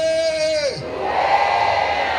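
A voice rises into a held shout, then a church congregation answers with a loud, overlapping crowd shout of praise that carries through the rest of the moment.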